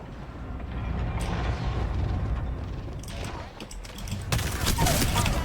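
Dense, rapid gunfire in a video game, with bursts of shots layered over a rumbling battle backdrop that stays loud throughout and swells near the end.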